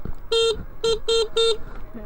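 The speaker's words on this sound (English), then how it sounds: "Honking just to scare some animals away." An electric motorcycle, a NIU XQi3, honks its horn four times during a night ride: one longer toot followed by three short, evenly spaced beeps, loud and close.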